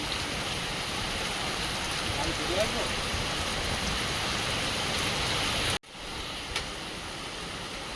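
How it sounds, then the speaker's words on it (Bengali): Heavy rain pours down as a steady, loud, dense hiss. It stays constant for most of the stretch, then cuts out abruptly for an instant and resumes slightly quieter. "হেভি বৃষ্টি হচ্ছে, জাল পাতার দরকার।"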